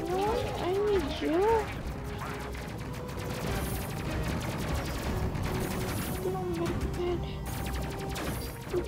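Enemy gunfire strikes a ship's shields in the Space Crew video game as rapid, sustained bursts of shots, mixed with electronic game tones and chirps throughout.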